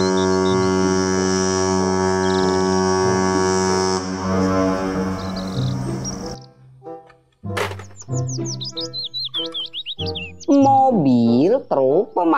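A toy cruise ship sounds a long, steady, buzzing horn for several seconds. It then stops and is followed by a voice and high chirpy tones.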